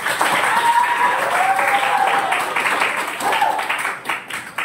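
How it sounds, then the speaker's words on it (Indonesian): Classroom applause for a student group, a few seconds of scattered clapping with voices talking over it before it thins out. "Sekali lagi kita kasih tepuk tangan untuk saudara"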